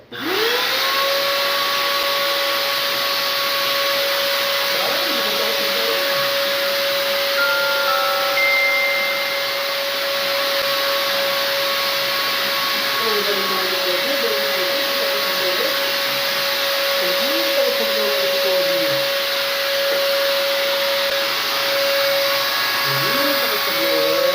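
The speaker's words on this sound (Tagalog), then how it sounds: "blower muna natin mga kadogo" A loud, steady high-pitched blower whine runs throughout, drying a dog, with faint squeaky yelps and whimpers rising over it now and then.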